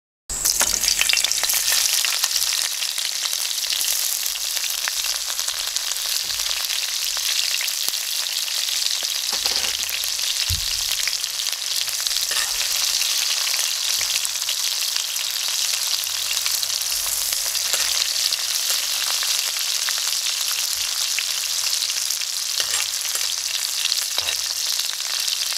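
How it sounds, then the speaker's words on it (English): Onion and hot pepper frying in a pot for Trinidad curry duck, a loud, dense, unbroken sizzle that holds steady throughout with a few faint stirring knocks. "And now I'll add the onion and hot pepper and cook until the edges are brown."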